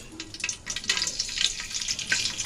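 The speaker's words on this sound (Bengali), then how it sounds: "এখন আমি পোলাও চালটা ভাজবো। আমি এখানে তেল দিয়ে দিয়েছি।" Rice frying in hot oil in a pan for ilish polao, a steady close sizzle with light crackling and stirring scrapes throughout.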